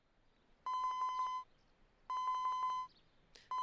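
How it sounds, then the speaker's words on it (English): A cell phone rings in two steady bursts of bright, warbling electronic tone, each about a second long, and a third ring begins. The ringing is clear and close against a quiet background. "Osawa's cell phone rang."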